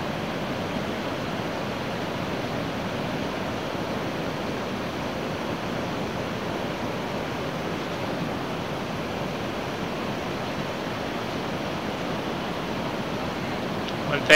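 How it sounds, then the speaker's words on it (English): Steady ocean surf on a Northwest coast beach, a broad continuous wash of breaking waves heard from some distance, soft and unbroken for the whole stretch with a little wind. "Listen to that ocean, folks."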